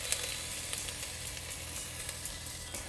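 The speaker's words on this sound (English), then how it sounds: "Now I'm just adding grated ginger into this." Grated ginger sizzling in a hot pan with asafoetida, a steady crackling fry with small pops throughout, close and unaccompanied by voices.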